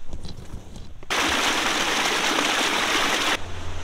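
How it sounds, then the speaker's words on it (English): Rushing river rapids pouring over rocks, a loud, steady broadband roar that bursts in after a second of quieter water and holds close to the microphone before easing slightly near the end. "Look at these rapids."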